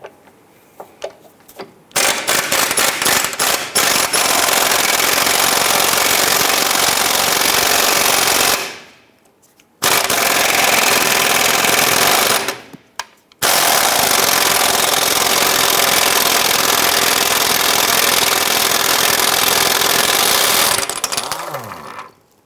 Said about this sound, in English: we're going to use our 18mm to loosen and remove this bolt as well.